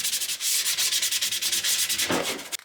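320-grit sandpaper rubbing over 3D-printed parts for a full-size District 9 rifle replica, a loud, close run of quick, steady back-and-forth strokes with no talking.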